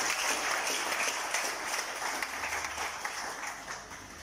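A church congregation applauds and cheers for Jesus: steady, dense clapping from a large crowd that holds for several seconds and slowly eases off.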